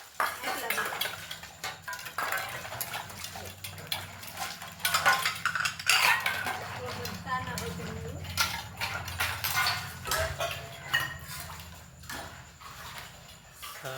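Dishes being washed at a farm, with pots, pans and metal utensils clattering and clanking in irregular bursts, close by, while people talk throughout.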